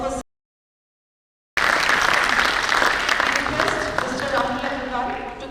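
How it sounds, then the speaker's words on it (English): After a brief silent gap, a large convention audience breaks into sustained, dense applause for a guest of honor, a broad continuous wash of clapping at a national convention's inaugural session. "May we have a huge round of applause for"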